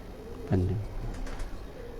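A Teddy Ferozpuri pigeon gives a single deep, throaty coo partway through, close and fairly loud over a low background hum.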